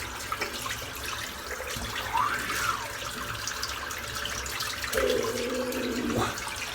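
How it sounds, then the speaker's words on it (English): Tap water runs steadily under a cut hand held beneath a cold faucet, a close, continuous splashing rush with shifting tones as the hand moves in the stream. "I'm going to dry my hand while I'm running that under the cold water"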